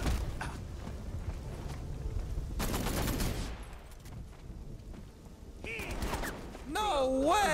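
Rapid bursts of gunfire in the Batman Arkham Knight Red Hood DLC game crackle through a dense mix of game effects, with mechanical creaks and a tonal sweep near the end.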